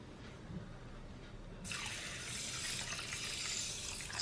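Water runs from a tap onto hamoum, a dark fermented wheat couscous, starting suddenly partway through as a steady, close splashing pour that continues to the end without talk.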